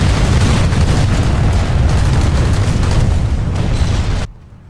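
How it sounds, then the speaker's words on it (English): Dense, loud combat noise from the online shooter game Planetside 2 builds into a continuous roar of explosions and gunfire layered over soundtrack, then cuts off abruptly near the end. "if you get into an area of intense combat, you'll get a soundtrack that sounds something like this"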